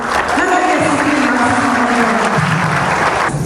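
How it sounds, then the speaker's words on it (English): Large audience of about a thousand people applauding steadily for Queen Maxima on an official visit in Indonesia, a dense wash of clapping with some cheering that holds throughout, with a voice rising over it. "So give her a big applause for Her Majesty Queen"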